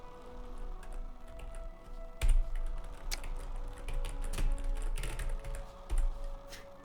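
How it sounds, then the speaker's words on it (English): Fast typing on a computer keyboard, a dense run of close key clicks with a few heavier thumps, going on steadily with no voices. "Typing like a madman."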